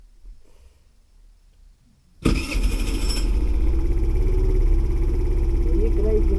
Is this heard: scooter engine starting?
yes